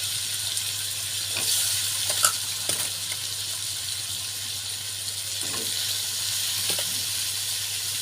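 Pointed gourd, papaya and potato fry in a pan with fish head, giving a steady hissing sizzle throughout and a few soft scrapes and clinks of stirring.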